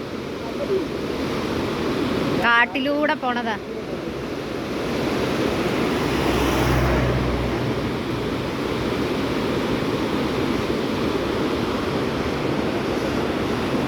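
A forest waterfall roars steadily and close by, a dense, unbroken rush of falling water that fills the whole stretch, with a short burst of talk early on.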